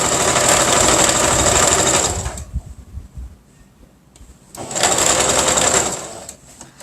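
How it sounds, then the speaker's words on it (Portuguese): A sewing machine stitches TNT nonwoven fabric for an ecobag in two loud, steady bursts of rapid mechanical whirring, separated by a quieter pause with faint handling noises. "E sigo costurando, mantendo sempre junto."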